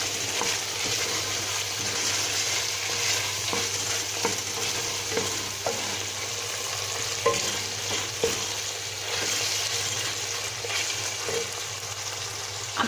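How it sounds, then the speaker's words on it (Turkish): Tomato paste fries with onions and peppers in a pot for a bean stew, a steady close sizzle with occasional spoon clicks and stirring scrapes under a low hum, no voices. "Şöyle salçamı da kavuruyorum."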